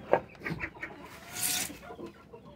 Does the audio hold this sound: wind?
no